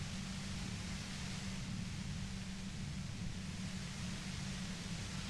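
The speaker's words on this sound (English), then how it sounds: "You hear through the white noise. It's especially bad suddenly." Steady, faint white noise static in the video game Disco Elysium, an even hiss with a low hum beneath it and no voices.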